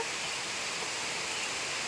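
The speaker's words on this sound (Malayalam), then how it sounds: "നല്ല മഴയാണ് ഭയങ്കര മഴയാണിപ്പോൾ" A steady, dense hiss of heavy rain fills the short stretch, unbroken and fairly loud.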